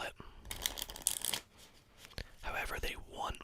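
A deck of playing cards is riffled and shuffled up close in soft, crisp fluttering bursts, with pauses between shuffles and quiet, whispery ASMR-style talk during card magic.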